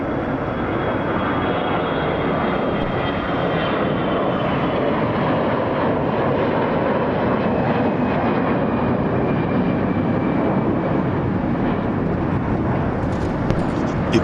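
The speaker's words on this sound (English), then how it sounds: "Departing Atlanta en route to its destination of Sarasota, Florida, with Delta Airlines Flight 2828." A 26-year-old Delta Airlines Boeing 757-232 takes off from Atlanta International Airport, its engines a sustained broadband roar with a steady low rumble, heard from the ground at moderate distance with no break.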